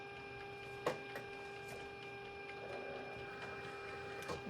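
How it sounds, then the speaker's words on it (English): A Cricut cutting machine cuts a sheet of stickers, a faint steady mechanical hum and whir broken by a few soft clicks and short motor sweeps, with no talk. "I'm going to send this through my Cricut to cut it."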